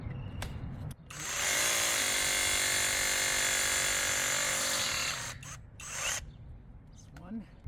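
A brushless heavy duty rotary hammer drill bores into a brick and cement block wall, running in one loud, steady grinding burst of about three and a half seconds, with quieter handling noise before and after.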